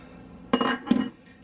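Two quick clinks as ceramic or glass slow cooker lids knock together, each a short bright ring that fades fast, close by and alone in a quiet kitchen.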